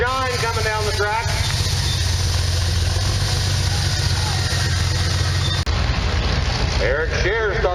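A 2.6 diesel class truck rumbles loudly at a county fair truck pull in Edwards County, Illinois, its low engine roar continuous beneath an announcer and crowd noise, with a sharp bang near the end.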